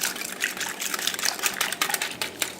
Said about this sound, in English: Now whisk.